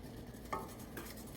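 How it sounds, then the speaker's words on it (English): Orange pudding mixture is stirred in a pot, a quiet soft swish with a faint utensil clink, short and low under a gentle background hum. "So let's get a nice stir going on here"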